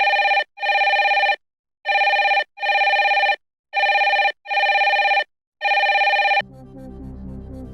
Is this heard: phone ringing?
yes